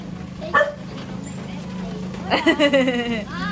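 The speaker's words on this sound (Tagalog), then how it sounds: "May aso doon." A dog yips and whimpers a few times at mid-distance, short high-pitched cries over a steady background hum, with voices nearby.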